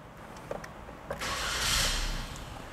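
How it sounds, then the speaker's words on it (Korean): A car engine cranks and catches after a couple of clicks, settling into a steady idle close by in a quiet setting; the car is one of several models such as a new Suzuki Jimny, a Mercedes G55 AMG or a Honda N-Box. "시동을 한번 걸어봐 드리겠습니다"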